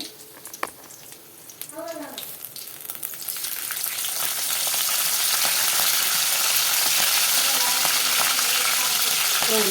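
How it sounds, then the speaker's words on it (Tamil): Mustard seeds and curry leaves hit hot oil for a Tamil keerai kadayal. Quiet clinks come first, then the sizzle swells and settles into a loud, steady crackling hiss. "எண்ணெய் சூடாயிடுச்சு கடுகு கொஞ்சம் சேர்த்துக்கிட்டேன்"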